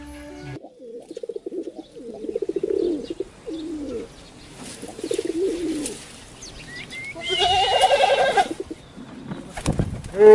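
Pigeons coo close by in repeated throaty bursts, followed by a louder flurry of bird calls and a sharp knock at the end.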